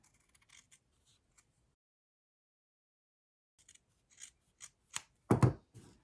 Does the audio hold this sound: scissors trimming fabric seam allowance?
yes